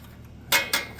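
Two sharp metallic clinks of a wrench working a jam nut on the valve adjuster of a Kohler 3000 SH265 motor, close and isolated in a quiet room.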